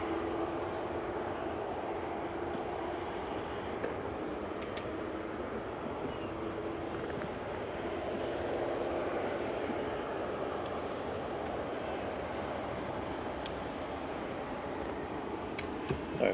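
Airbus A321 jet engines at Manchester Airport give a steady, broad roar that holds at an even level throughout, heard from outside at a moderate distance with no one speaking.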